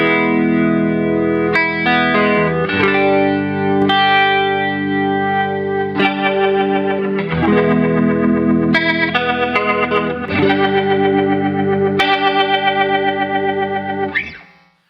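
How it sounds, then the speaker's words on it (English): Electric guitar through a Strymon Lex rotary speaker pedal in an effects loop, chords swirling with rotary chorus-like modulation and some distortion, sustained strums changing every second or two, loud and alone, then a quick fade. "One side goes out to the Strymon Lex, and then that ends effects loop 1."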